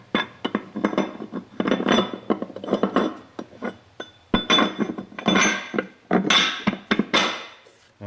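A heavy-duty sealed bearing carrier for a long-travel suspension build is slid into place, giving a run of close metallic clinks and knocks in irregular bursts, with no talking.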